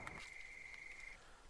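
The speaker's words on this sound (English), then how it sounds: "Love the cricket sounds" Crickets chirp in Farming Simulator 19 at night, a faint, steady high trill running through most of the moment against a soft ambient background, with no talk.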